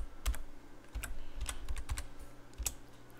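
Quick, light keystrokes on a computer keyboard enter a password, a short uneven burst of soft clicks close by in a quiet room with no talking.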